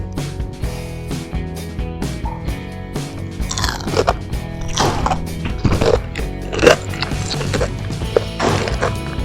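Crisp homemade chicken nuggets, crunchy outside and soft inside, are bitten and chewed up close, giving a steady run of loud crunches and crackles for several seconds with no talk.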